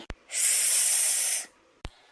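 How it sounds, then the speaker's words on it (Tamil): A perfume spray bottle gives one sustained, bright hiss lasting about a second, close and fairly loud. A short click or tap comes just before it and another just after. "சமாசமா இருக்கு ஆண்டி இந்த ஸ்ப்ரே"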